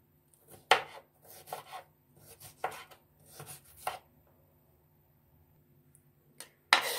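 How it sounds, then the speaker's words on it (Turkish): Knife chopping peppers into cubes on a cutting board, a handful of sharp, close chops spread irregularly, a quiet stretch in between, then one more loud chop near the end. "Biberleri de aynı şekilde küp küp kesiyorum."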